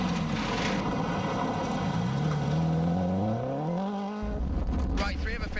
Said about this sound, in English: The engine's cutting out in fast left bend.